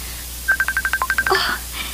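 A cellphone keypad gives a quick run of about ten short, bright dialing beeps in a radio drama, evenly spaced and close, ending in a brief jumble of tones.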